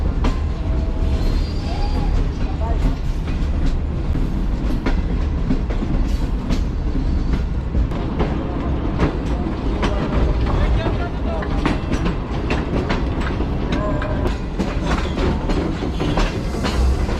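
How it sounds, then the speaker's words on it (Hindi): Shalimar Express passenger train rolling into Rohri Junction toward platform 3, its coaches curving along the track: a loud, steady rumble with continuous rail clatter and scattered wheel clicks throughout, heard from on board. "तो ये रोड़ी जंक्शन के प्लेटफॉर्म नंबर 3 की तरफ बढ़ रही है हमारी ट्रेन"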